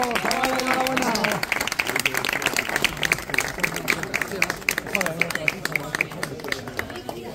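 Applause at a racing awards announcement after race results, dense clapping throughout with a voice talking over the start.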